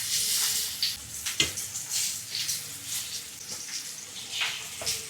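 Crab sizzling in hot oil in a pan over medium flame, a steady loud crackle with sharp spattering pops throughout and no talking.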